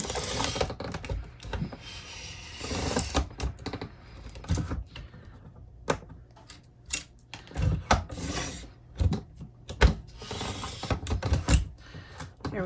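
Scissors cutting through a laminated plastic cash envelope, a close run of rapid snipping and rasping crunches in uneven bursts over faint background noise.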